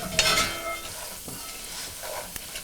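Walnuts sizzling in melting butter in a pan as they are stirred, giving a steady close frying hiss with a few scraping strokes and soft knocks, without talk.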